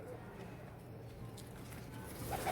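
Domestic pigeons kept by a breeder, soft low cooing from nearby birds under faint background noise, rising slightly at the end.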